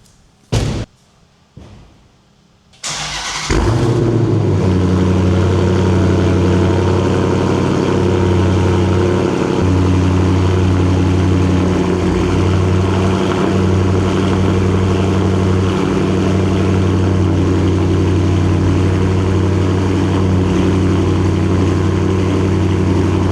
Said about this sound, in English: Here is the first cold start since doing the mid muffler delete.